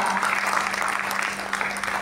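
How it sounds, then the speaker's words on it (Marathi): Steady, dense applause fills a hall at a devotional Swami Samarth gathering marking the 150th death anniversary. Many hands clap continuously over a faint electrical hum. "मला वाटतं न थांबता टाळ्या वाजल्या पाहिजेत"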